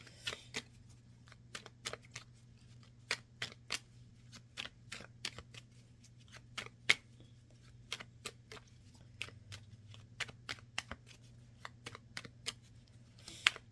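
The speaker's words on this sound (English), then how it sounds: "Let's pull some more cards here." Tarot cards shuffled and pulled for a reading, a long run of crisp, rapid riffling flicks and soft taps in irregular bursts, close and fairly quiet over a low steady hum.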